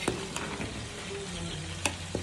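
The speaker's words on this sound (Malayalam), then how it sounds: "മുല്ലപ്പൂ പോലത്തെ റൈസ് ഇളക്കുന്നു ഗൈസ്" Soft scraping and stirring of rice for chicken biryani in a pot over a steady sizzling hiss, with a couple of sharp clinks of a utensil.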